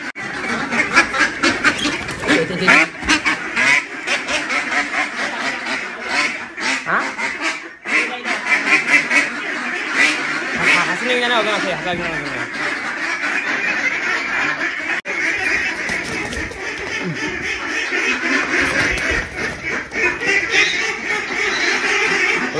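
Ducks quack loudly and continuously, a dense overlapping chorus of many birds close by, with no pauses.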